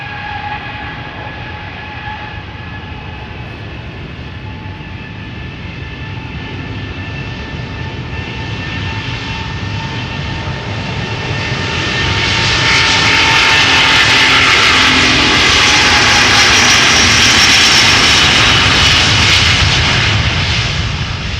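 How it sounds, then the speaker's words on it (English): A Turkish Airlines Boeing 777 takes off from the runway at Amsterdam Schiphol Airport. Its steady engine roar swells markedly partway through and stays loud and broadband to the end, with no talk. "a Turkish triple has just taken to the skies"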